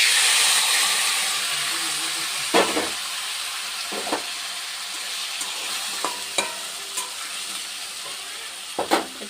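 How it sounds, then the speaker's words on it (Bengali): Mixed puti fish and taro stolons hit hot oil in a wok with a loud, steady hiss that eases slightly, while scattered light scrapes and taps from stirring punctuate it. "তেলটা গরমই ছিল। মাখা হয়ে গেছে, এটা আবার আমি কড়াইতে দিয়ে দেবো।"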